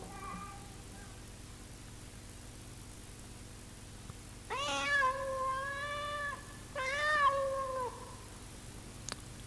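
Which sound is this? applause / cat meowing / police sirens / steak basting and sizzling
cat meowing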